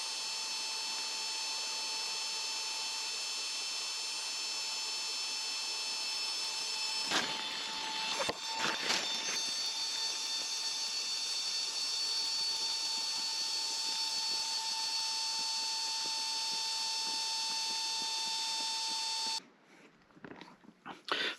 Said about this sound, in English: pumped up as you just saw in like literally a couple of minutes